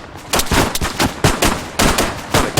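Gunfire in a military video game rattles out in fast, evenly spaced, loud bursts that sound close, with no talking in between.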